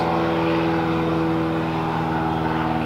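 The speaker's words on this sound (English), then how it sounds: "the airplanes are starting kind of like coming towards us" A small airplane near the Marathon airport, a loud steady propeller engine drone that hums evenly throughout and stays close.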